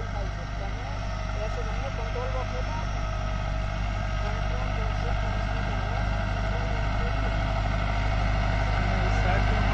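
A Deutz-Fahr Agrolux 80 HP tractor pulls a cultivator through a field in Punjab, in first gear with the lever fully down. Its engine gives a loud, steady, close drone that runs without a break for the whole stretch.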